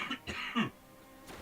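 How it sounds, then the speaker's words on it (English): A few short, harsh coughs in quick succession, close to the microphone, followed by quiet. "sorry for my coughing again."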